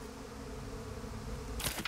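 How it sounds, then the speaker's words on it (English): Swarm of bees in the video game Psychonauts 2, a steady dense buzzing hum throughout with a brief brighter burst at the end. "Compton isn't handling all these bees very well."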